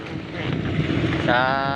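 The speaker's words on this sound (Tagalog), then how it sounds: "Mabuti lang at may nakadaan na bangka pauwi na. Nagpahila na lang kami." A motorboat engine drones steadily against gusty wind and water noise while towing a broken-down boat, with a brief higher engine whine rising near the end.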